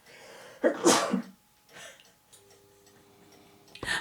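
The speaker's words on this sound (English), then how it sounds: "I'm going to sneeze, hang on." A single sharp sneeze bursts out close by, followed by a few soft breaths and a brief clatter at the end.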